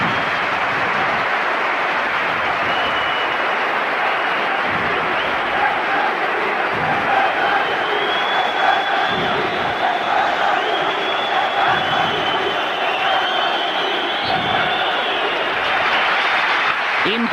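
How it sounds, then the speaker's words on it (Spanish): A packed Santiago Bernabéu stadium crowd at a Real Madrid versus Athletic Bilbao league match rises in a long, roaring ovation during a minute of silence, broad and sustained with distant whistles and swells. "el Bernabéu rompe en una sonora ovación impresionante"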